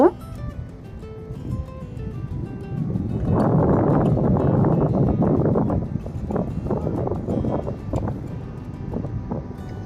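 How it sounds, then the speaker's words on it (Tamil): Strong wind blasts across a North Sea beach at Zandvoort in the Netherlands, a loud rough roar buffeting the microphone in gusts, swelling midway and then easing, with a voice speaking over it early on. "செம்மையாக காற்று வீசுது."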